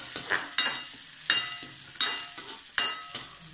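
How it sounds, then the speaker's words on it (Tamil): Chana dal and urad dal roasting in a pan, dry grains rattling and scraping in regular strokes about every 0.7 seconds as they are stirred, close and moderately loud with no talk. "கடலைப்பருப்பையும் போட்டு இந்த வெள்ளை உளுத்தம் பருப்பையும் அதில் போட்டுடணும். போட்டுட்டு கொஞ்சம் செவக்க வறுக்கணும்."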